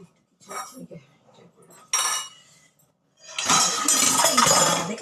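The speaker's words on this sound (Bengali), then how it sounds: "দাঁড়াও একবার থালাটা ধুয়ে নিই ফার্স্টে ধুয়ে দেবো" A plate is washed, with scattered clinks of dishes, a sharp clatter partway through and a loud rush of running water at the end, close by.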